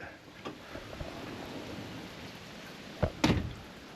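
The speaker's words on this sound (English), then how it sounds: "let's wait for this rain to stop" Steady rain patters throughout, with a couple of sharp thunder cracks near the end, close and loud against the downpour.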